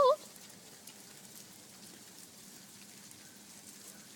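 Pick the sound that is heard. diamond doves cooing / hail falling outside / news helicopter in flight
hail falling outside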